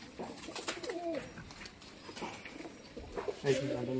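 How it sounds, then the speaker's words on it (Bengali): Close, throaty cooing comes from a male pigeon in a few short bursts, one early and one louder near the end. Quiet background noise fills the stretches between them. "এটা একটা নর পায়রা।"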